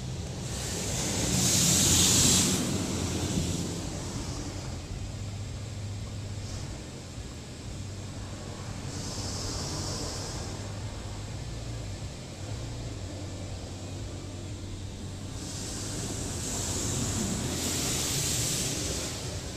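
An automatic car wash at a Mobil station on Main St in Leominster sprays clear coat and protectant in a steady rushing hiss that swells loud at the start and end, with a low mechanical hum beneath.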